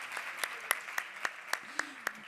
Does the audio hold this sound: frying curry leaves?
no